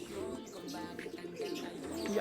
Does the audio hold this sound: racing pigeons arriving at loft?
yes